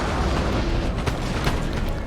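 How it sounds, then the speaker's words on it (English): Cannon fire in Napoleon Total War during a hill battle, a dense rolling series of booms and bursts close up, steady and loud with no talk over it. "Cannon's doing a lot of damage."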